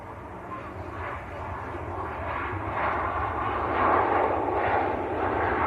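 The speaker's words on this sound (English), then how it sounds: "Jet 2 from Vienna, 737-800, just touching down." Jet2 Boeing 737-800 arriving from Vienna and touching down at Manchester Airport, its engine roar steady and broad, building slightly in the middle at moderate distance.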